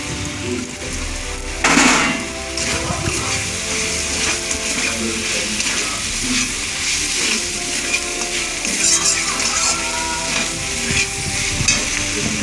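Soya chunks drop into a hot pan for soya chilli, setting off a sharp burst of sizzling followed by continuous frying hiss and occasional stirring clatter at close range.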